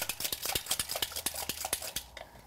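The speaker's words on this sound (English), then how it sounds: "Whisk the eggs" A whisk beats eggs lightly in a bowl for an English trifle, giving rapid, even metallic clicks and scrapes close up that slow and fade near the end, with no voices.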